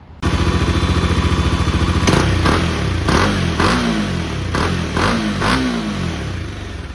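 A Bajaj Dominar 400 motorcycle with an aftermarket Rogue Barrel exhaust idles with a steady throb, then is revved in about five sharp blips that rise and fall, loud and close.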